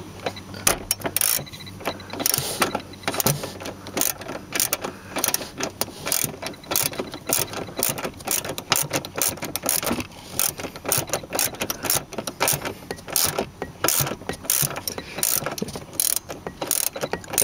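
A ratchet wrench working a battery bolt loose on a 2005 VW Touareg, with a rapid, continuous clicking of the pawl and metallic mechanism noise filling the whole stretch, close and steady with no voices.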